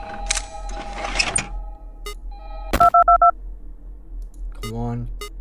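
Telephone tones in the video game Five Nights at Candy's 2: a quick series of about four sharp beeping dial tones in a clipped rhythm, set among clicks, rustling noise and a low hum.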